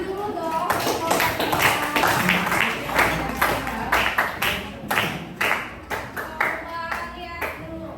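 A classroom of students clapping for a group that just presented, uneven hand claps with some children's voices mixed in, close and fairly loud for several seconds.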